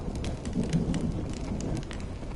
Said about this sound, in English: You're lucky to have found shelter from the rain.